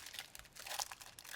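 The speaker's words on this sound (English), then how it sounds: "Open your second pack, do the same thing." Foil wrapping of a Lorcana trading card booster pack crinkles and tears in quick, faint bursts, close up, with no talking.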